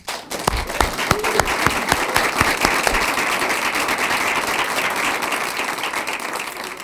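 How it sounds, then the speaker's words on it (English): Audience at a school board meeting breaks into applause for District 11 student performers, starting with a few loud distinct claps that quickly build into sustained, dense clapping. "And a round of applause."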